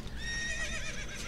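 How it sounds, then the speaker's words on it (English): A horse neighs in The Legend of Zelda: Ocarina of Time on Nintendo 64, a loud, sustained whinny with wavering high tones heard alone over a steady game background. "Get on the horse"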